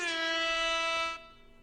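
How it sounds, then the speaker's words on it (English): A single loud, sustained air horn blast with a bright, brassy tone, held for about a second before cutting off abruptly. "give him my air horn"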